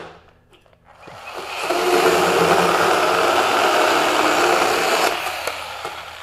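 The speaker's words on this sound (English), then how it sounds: "so I did just stall the motor" A Ryobi 18V brushless pruning saw spins up and cuts with a steady, loud buzzing whine for several seconds, then drops off as the motor stalls in the wood, with faint clicks at the start and end.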